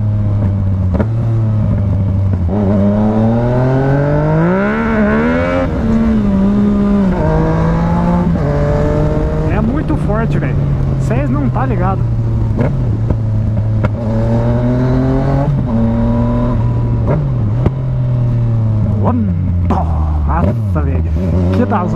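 A loud engine drones steadily for the whole stretch, its pitch rising and falling as the throttle is worked, with people talking over it.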